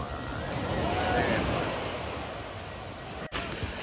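Ocean surf at Morobayang beach in Bayang, West Sumatra, a continuous washing roar with wind buffeting the microphone, swelling then easing, with a brief dropout near the end.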